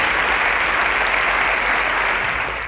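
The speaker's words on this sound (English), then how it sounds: "A round of applause for Lofty." A loud, dense burst of audience applause for a contestant on a televised quiz show semi-final, continuous and close throughout.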